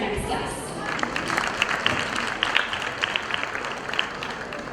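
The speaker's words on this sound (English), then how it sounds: "Thank you for that round of applause" Applause from an audience at a public event as a guest is welcomed to the podium, steady dense clapping that holds for several seconds at moderate volume with a faint voice mixed in near the start.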